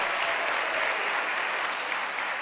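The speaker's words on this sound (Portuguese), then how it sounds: "Isso, aplauda o Senhor." A church congregation claps together in praise, a dense, even wash of many hands that stays steady and fairly loud throughout.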